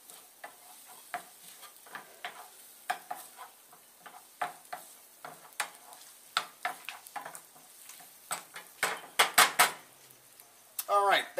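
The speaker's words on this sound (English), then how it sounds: "I'm just going to give this a quick saute, just 30 seconds, just to warm it up and flavor it up with this nice butter garlic" King crab meat sautes briefly in garlic butter in a pot, giving a faint sizzle broken by frequent clinks and scrapes of a utensil against the pan, which grow louder and busier toward the end.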